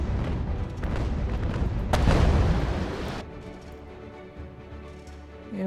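Naval gunfire in the UGAR sea-battle strategy game, heavy rumbling booms rolling together into a dense roar that peaks sharply and then cuts to a quieter tonal background, with no talk.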